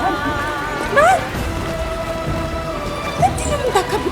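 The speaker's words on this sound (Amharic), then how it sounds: "ኧረ እየዘነበ ነው።" Rain falls outdoors in a continuous broad hiss of drops, moderately loud and steady, with a few brief warbling, voice-like sounds rising above it.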